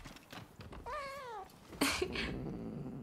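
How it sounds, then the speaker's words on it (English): A cat meows in the video game Rise of the Ronin: one clear, drawn-out, wavering meow rising and falling, close and alone, followed by a bright chime and soft game music. "Here's one kitty."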